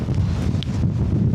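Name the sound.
gale force wind at a Lake District wild camp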